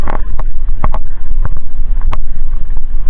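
A small traditional fishing boat (bangka) is out on open sea, with loud wind buffeting the microphone and splashing and knocking sounds over a deep engine-like rumble.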